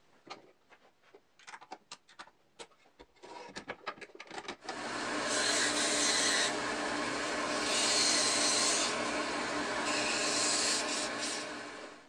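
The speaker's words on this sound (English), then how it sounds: "I can replace the platen in this one, and this platen is convex for rounding inside curves." A homemade strip sander fitted with a convex platen sands a wooden workpiece: scattered rubbing and tapping at first, then the motor and belt start into a loud, steady grinding whir that holds to the end.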